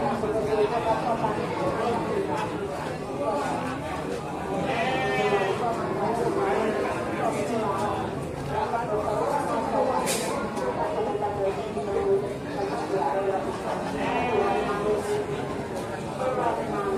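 A flock of merino sheep kept in a pen bleat intermittently, with several wavering calls near and far amid background chatter and people talking.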